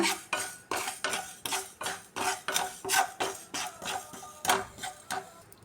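Dry cumin and fenugreek seeds roast in a pan without oil, making a steady series of about a dozen rhythmic scraping strokes with faint crackle between them, close and clear.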